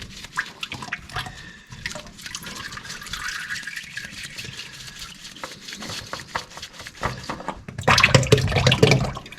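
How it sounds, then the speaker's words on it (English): Fluid draining from a loosened filter on a Kubota LX2610/LX3310 tractor into a pan, with close, steady trickling and dripping that swells into a louder splashing stream near the end. "we should get a little bit of fluid coming here in a second"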